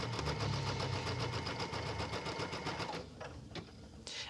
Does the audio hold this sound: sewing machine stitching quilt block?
yes